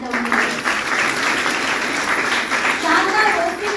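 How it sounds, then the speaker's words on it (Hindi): Audience applause at a business training event, steady dense clapping from a crowd filling the room, with some talking mixed in. "एक बार आप तालियां बजा सकते हो"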